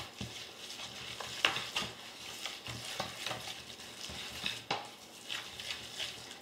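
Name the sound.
mixing applesauce, carrot and oat treat dough in a bowl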